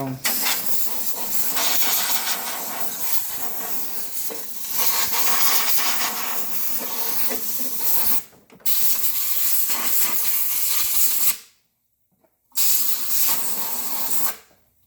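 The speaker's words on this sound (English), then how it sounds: "let me turn the air compressor on" A compressed air nozzle blasts loud, steady hissing bursts while a Poulan push mower is cleaned out, continuous for about eight seconds and then in shorter bursts with brief stops between them.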